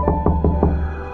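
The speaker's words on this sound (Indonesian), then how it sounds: "Terdengar ketukan pintu" Four quick, evenly spaced knocks rap on a door, close and clear over a low steady hum.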